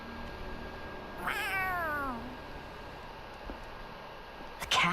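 A single drawn-out cat meow from the video game Tales of Arise, rising then sliding down in pitch, clear and close over a quiet hiss, followed by a faint tap and a short burst near the end.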